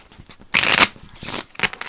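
A deck of playing cards is riffle shuffled close up, with a loud fluttering burst followed by a second, softer riffle and a short final flick, heard alone without talk.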